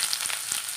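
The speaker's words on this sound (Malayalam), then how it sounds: "സവാള ഇട്ട് കൊടുക്കാം." Sliced onion drops into hot coconut oil with cinnamon and star anise, giving a brief, steady, bright sizzle with a few soft stirring taps.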